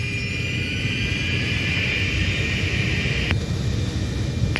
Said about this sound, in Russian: Взлетаем.